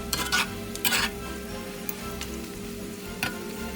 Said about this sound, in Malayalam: ഒരു ടീസ്പൂൺ ഗരം മസാല പൗഡറും ചേർത്ത് കൊടുക്കാം എല്ലാം കൂടെ നല്ലതുപോലെ ഇളക്കി യോജിപ്പിക്കാം